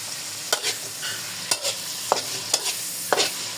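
Beef and melted cream of mushroom are stirred in a pan, with a soft sizzle under about six distinct scraping strokes of the spoon, close and fairly loud.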